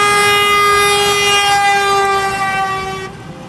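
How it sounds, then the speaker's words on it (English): A loud horn sounds a steady, rich multi-toned blast as it passes by, its pitch sagging slightly before it cuts off abruptly near the end, leaving quieter background noise. "the change in frequency or pitch from high to low as a siren or horn passes by you"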